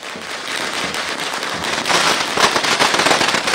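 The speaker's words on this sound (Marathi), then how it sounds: "उस्मानाबादच्या शिवाजी चौकामध्ये फटाके फोडण्यात आले" Firecrackers go off at a political celebration in a town square, a rapid crackling barrage of close, overlapping pops that grows louder and denser toward the end.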